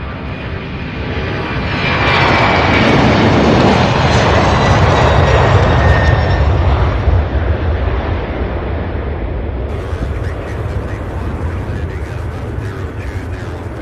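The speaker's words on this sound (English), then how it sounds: "that MD-11's turning to go on the other side" An MD-11 jet taxis and turns at Louisville International's UPS Worldport, its engine roar swelling into a loud, broad rumble and whine, then easing back to a steadier drone.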